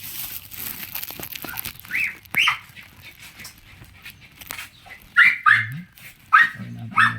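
Short dog barks come in scattered bursts, a couple early on and then a closer cluster of sharp yaps near the end, against a quiet background with faint stray noises.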